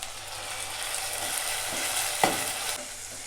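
Tomatoes sautéing with green chilli, garlic and curry leaves in a pan, a steady close sizzle and frying hiss with a few stirring scrapes and one sharper clink midway, no voices.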